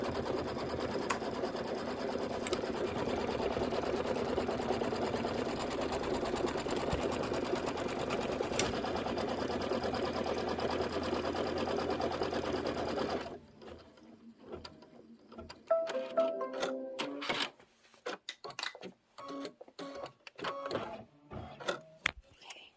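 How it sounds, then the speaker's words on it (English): An embroidery sewing machine stitches down background fabric for a pillow block, giving a fast, steady mechanical whir for about thirteen seconds, then stopping; scattered clicks and handling noises follow. "Go ahead and just stitch it down."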